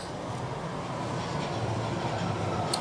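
Train ride in the video game Second Life, a loud, steady rumble of rolling rail noise that fills the clip without letup, with no voices over it.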